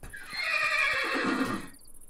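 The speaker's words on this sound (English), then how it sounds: "There's a wild horse there." A wild horse whinnies in the Minecraft video game, a long, loud, wavering neigh lasting about two seconds and heard alone without speech.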